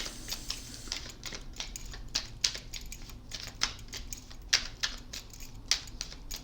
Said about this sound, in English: I just feel like shuffling.